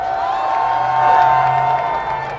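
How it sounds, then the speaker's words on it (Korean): A rally crowd on the street near the Hannam-dong presidential residence cheers and applauds loudly for a speaker, a dense, steady roar of voices with shouts carried over a sustained tone. "뜨거운 박수 부탁드리겠습니다"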